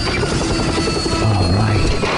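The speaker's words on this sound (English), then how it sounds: "An FBI helicopter landing on all the Hello Kitty merchandise" An FBI helicopter coming in to land, heard as a loud, steady rotor drone and hum with a rising low tone part way through, with no voices over it.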